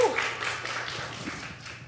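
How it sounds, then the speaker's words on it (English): A live audience at a podcast show in St. Louis claps, a brief, fairly soft patter of applause tapering off with some faint voices underneath. "Give yourself a round of applause for making it out to the show tonight."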